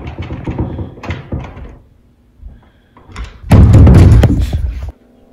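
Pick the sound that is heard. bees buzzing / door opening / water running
door opening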